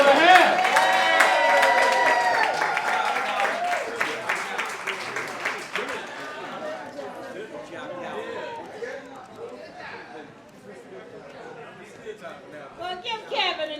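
An audience at a campaign kick-off event claps and chatters, strongest at first and then fading into scattered clapping and crowd murmur.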